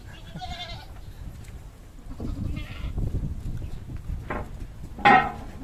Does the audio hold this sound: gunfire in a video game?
no